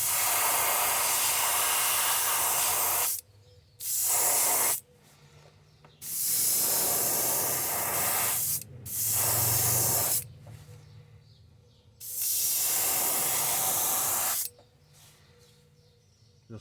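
Spray paint applied to a wooden jointed wake bait made from a stick, heard as loud, close hissing bursts of a few seconds each, separated by short pauses, with no talking.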